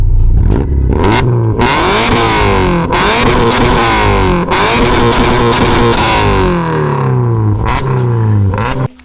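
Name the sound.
car engine revving through aftermarket intake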